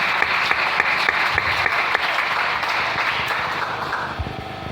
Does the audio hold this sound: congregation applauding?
yes